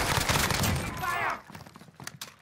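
Burst of rapid gunfire in a Warzone shooter video game, loud and dense for about a second alongside shouted voices, then dropping to quieter scattered clatter.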